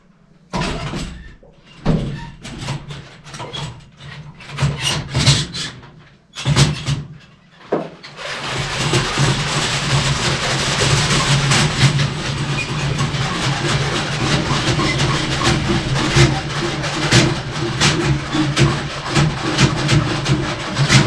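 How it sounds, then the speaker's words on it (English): A toilet auger works to clear a clogged toilet, starting with a few scraping, rattling bursts and then turning into a continuous loud grinding churn. The sound is close. "let's give it a little augering."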